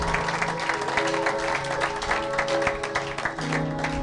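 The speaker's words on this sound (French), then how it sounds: "Acclamez pour la gloire de notre Dieu," Inside a church, a congregation claps together in a dense, lively round of applause lasting a few seconds, with faint voices mixed in.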